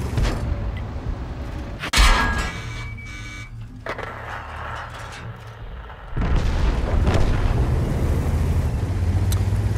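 Tank cannon fire and explosions in World of Tanks on a North American server, with a sharp loud boom near two seconds followed by rumbling engine and battle noise and another heavy burst that swells after six seconds.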